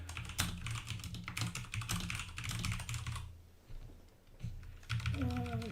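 Typing on a computer keyboard at a desk, fast irregular key clicks running through most of the clip with a brief pause near the middle, close and fairly loud.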